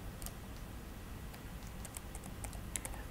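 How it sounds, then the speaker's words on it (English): Quiet computer keyboard typing in bursts of light key taps, mostly scattered and faint over a steady hum, while a game runs. "as I use my keyboard commands to jump"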